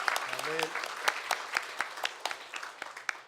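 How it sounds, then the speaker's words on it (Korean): A church congregation claps in thanks, with distinct, rhythmic hand claps spaced about a quarter second apart, moderately loud in a hall, while a voice briefly sounds near the start. "우리 한 해 동안 세밀하게 인도해 주신 하나님 앞에 크게 영광의 박수 돌리겠습니다. 감사의 박수."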